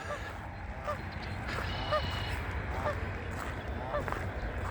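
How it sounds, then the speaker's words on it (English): A single Canada goose honks repeatedly at a fish hatchery near Kalamazoo, Michigan, its calls moderately distant over steady outdoor background noise. "Canada goose."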